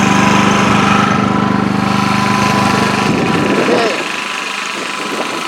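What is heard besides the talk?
small petrol engine idling after being started with the choke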